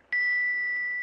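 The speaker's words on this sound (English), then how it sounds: "You hold the bell, and I'll tap it with the pendant." A small bell tapped once with a rose crystal pendant, giving a single clear, bright ding that rings on with a long, steady sustain in otherwise quiet surroundings.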